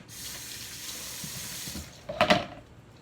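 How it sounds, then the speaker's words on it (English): Tap water runs steadily as hands are rinsed beneath the faucet while pickling corn, a broad continuous hiss with a louder splashing burst near the end as the hands move under the stream. "Let me rinse my hands off."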